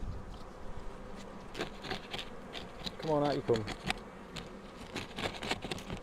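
Honey bees in a chimney buzz steadily in the background while a person speaks softly nearby, with a brief louder humming swell partway through.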